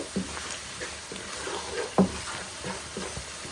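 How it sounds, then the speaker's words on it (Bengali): A spice paste fries on high heat with a constant, dense sizzle and occasional stirring scrapes and a soft clack, close and loud with no talk. "হাই হিটও আমি মশলারে কষাইমু"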